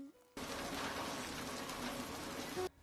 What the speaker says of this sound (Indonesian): Keesokan paginya, hujan pun turun cukup deras.